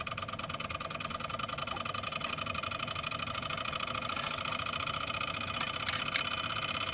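A Stirling engine power generator kit runs with a fast, even, continuous mechanical whir and ticking pulse, steady and close throughout.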